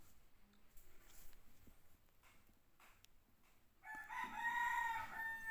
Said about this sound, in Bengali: দেখতে পারতেছেন এখানে 2000 কালার বাটের মুরগির বাচ্চা আছে